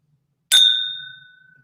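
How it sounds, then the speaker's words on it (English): Glencairn whisky glass struck like a bell, giving one bright, clear ding that rings on and slowly decays, close and alone against near silence. "every time a Glencairn rings, a drunk gets his whiskey, gets his wings"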